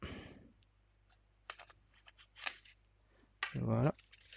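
Scissors snipping adhesive tape, with several short clicks and a louder cut near the end, while a voice speaks briefly at the start.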